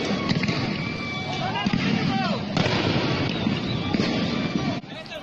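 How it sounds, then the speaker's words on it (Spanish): Gunfire crackles in repeated sharp bursts during an ambush on an opposition march in Nicaragua, heard over dense, continuous crowd noise and commotion. "El tiroteo era entre ellos mismos."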